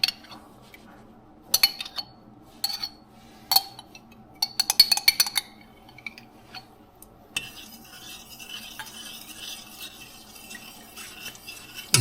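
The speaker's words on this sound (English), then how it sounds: "I'm going to just mix it well" A spoon stirs an L. reuteri yogurt mixture in a container, making quiet scraping and sharp clinks against the sides in irregular bursts, then a softer steady swishing, with no talking.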